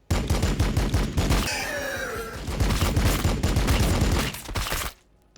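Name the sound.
gunfire in a Warhammer 40,000 video game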